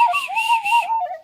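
A whistle carved from a natural wooden twig gives a clear, steady tone with a slight wavering pitch, blown once for just over a second, close and loud.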